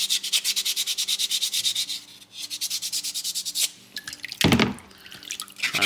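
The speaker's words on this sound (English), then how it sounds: "Making sure you rinse that sandpaper out" Wet sandpaper is rubbed in rhythmic strokes while rinsed in running water during soapstone owl carving, a steady scraping cadence with dripping and tap flow, then a louder splash and swish near the end.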